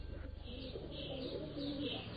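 A small flock of pigeons coo softly together up close, with a low, continuous burbling murmur throughout.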